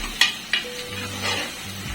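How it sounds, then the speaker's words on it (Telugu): Onions and curry leaves frying in a pan for a Telugu chicken curry, a soft sizzle with a couple of sharp utensil knocks against the pan and low background hum. "ఈ ఉల్లిపాయలు వేగేటప్పుడే కొంచెం కరివేపాకు వేసేసుకుంటే ఆ ఫ్లేవర్స్ అనేవి ఇందులోకి వస్తాయి."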